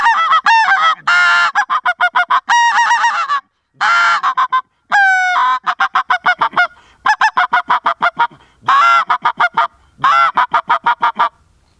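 A human voice imitates greylag goose honks through a hand call, with repeated loud nasal honks in bursts and varied pitches, close up, no talking.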